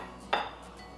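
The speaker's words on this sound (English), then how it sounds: "I'm just going to spoon a little salsa on here." Salsa spooned onto a plate beside a quesadilla and slaw, giving a single soft clink of spoon against dish near the start, then quiet.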